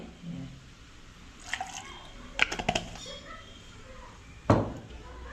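A glass bottle that held Amul milk is rinsed with water at close range: a few light splashes and wet knocks, building to a sharper sloshing clatter near the end, with no talking.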